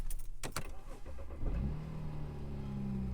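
BMW 335i twin-turbo engine fitted with a new aftermarket downpipe, heard from inside the car: a brief rev blip then a settled, moderate low drone at steady idle, no talk.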